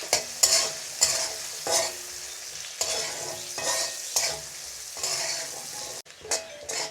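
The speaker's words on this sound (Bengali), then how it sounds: "এখানেটা আমি কিছুক্ষণ ভাজে নেব" Onions frying in a pan with salt and turmeric while preparing a fish bhuna dish, a steady sizzle broken by repeated scraping stirs of a spatula, close and moderately loud with no talking.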